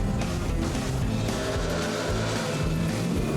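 Number 37 Chevrolet race car at Sonoma Raceway during a road race, engine roaring steadily and loudly throughout with continuous dense mechanical noise, no talk.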